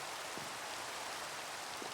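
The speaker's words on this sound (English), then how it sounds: "It seems like a waste to waste all this rain" Rain falls steadily in Minecraft, a soft, even hiss of droplets with no variation, faint and continuous throughout.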